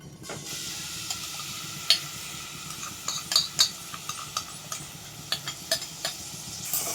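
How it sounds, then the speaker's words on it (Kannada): Grated bottle gourd frying in hot ghee, a steady sizzle with repeated clinks and scrapes of a spoon stirring in the pan, close and fairly quiet. "ತುಪ್ಪ ಕಾದ್ಮೇಲೆ ಈ ತುರ್ದಿರೋ ಸೋರೆಕಾಯಿನ ಹಾಕಿ ಫ್ರೈ ಮಾಡಬೇಕು"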